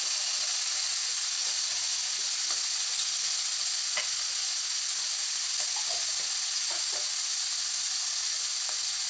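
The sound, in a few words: new potatoes frying with ground spice paste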